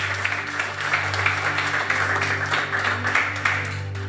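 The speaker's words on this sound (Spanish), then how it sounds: "den un aplauso fuerte al Señor" A church congregation delivers strong, continuous applause over a steady low electrical hum, the clapping dense and even with slight swells throughout.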